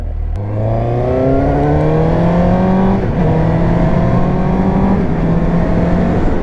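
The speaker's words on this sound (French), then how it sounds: "on a l'impression d'aller très vite, d'accélérer fort, parce que le bruit est sympa" A Suzuki GSX-S 750 motorcycle engine pulls hard through the gears. Its rising whine climbs, drops briefly at a shift, then climbs again, loud and continuous against wind rush, with no voices.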